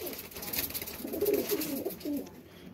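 A pigeon coos in a low, rolling series of soft calls close by, with a faint hiss of background noise behind it.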